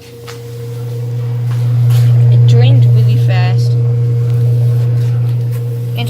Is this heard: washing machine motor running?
yes